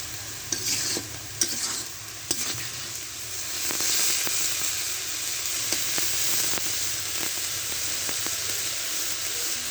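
Titul fish frying in a pan gives a loud, steady sizzle with occasional sharp clicks of stirring, close up and without speech.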